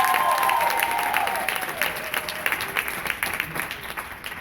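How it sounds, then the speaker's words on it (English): An audience at an event in Jacksonville applauds, a dense patter of many hands clapping at moderate loudness that gradually thins out over a few seconds. "Guys, give her a hand clap."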